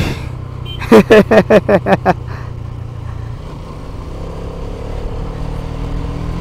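A sports motorcycle ridden along a hilly road near Thanchi, Bandarban, gives a steady low engine drone throughout, with a short burst of voice early on.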